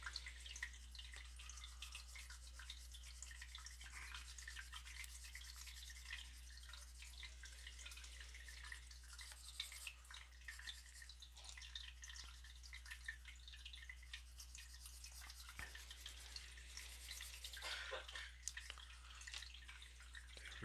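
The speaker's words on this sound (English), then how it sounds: "I have fish tanks, two to be exact, two tanks. That's why you hear the water running." Water runs and drips steadily in home fish tanks, a soft continuous trickle with occasional drops, heard alone at low level throughout.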